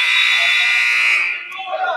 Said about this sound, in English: I don't know who that buzzer was for because that was not our match.